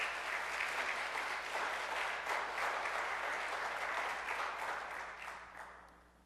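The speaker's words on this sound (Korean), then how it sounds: "우리 장로님들, 집사님들에서 박수 한번 쳐주세요." Church congregation clapping for elders and deacons during a Korean Presbyterian service, a sustained even wash of applause from many hands that fades out toward the end, no voices.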